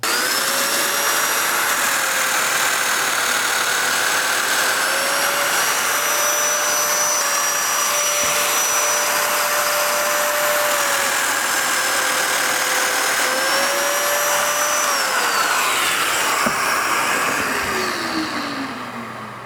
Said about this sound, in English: I've got the domino set so it's cutting a mortise that's exactly the width of the domino